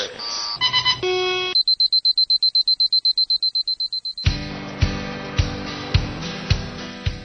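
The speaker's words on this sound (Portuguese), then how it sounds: "nós recebemos alarmes a cada 4 ou 5 segundos" A rapid run of electronic alarm beeps in a Jack Daniel's distillery control room, steady and piercing, gives way to a louder series of sharp repeated alert tones.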